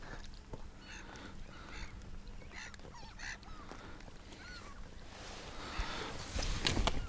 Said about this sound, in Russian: А вон они где все чайки-то.